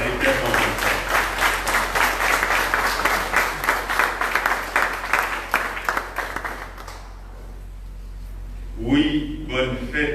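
Applause from a congregation at an anniversary mass for a prayer group, steady dense clapping for about seven seconds that fades out, followed by a brief spoken voice.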